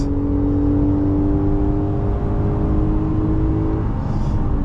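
A 2025 Ram 1500 pickup truck engine revs hard toward redline, a loud sustained drone with a steady whining tone, heard from inside the cab.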